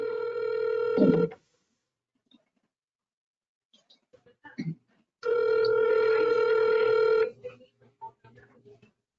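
Incoming call on a telephone: two bursts of electronic ringing separated by a pause, with faint background voices and small sounds in between.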